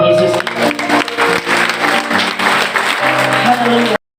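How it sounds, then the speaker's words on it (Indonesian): A church congregation at a Pentecostal service applauds loudly and steadily for several seconds, with music or voices and tonal sounds running underneath before the sound cuts off abruptly. "Beri tepuk tangan bagi Tuhan Yesus."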